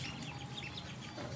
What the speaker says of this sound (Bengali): আপনারা দেখতে পাচ্ছেন একদিন বয়সী অরিজিনাল খাকি ক্যাম্বেল হাঁসের বাচ্চা।